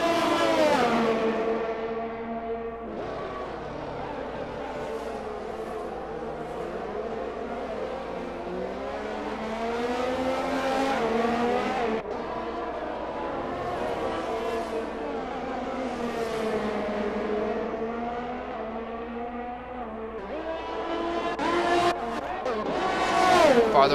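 Formula-style race cars in a realistic racing video game, engines revving and shifting through gears as they drag race toward a corner at the Netherlands circuit, with commentary talking over the rising and falling engine notes.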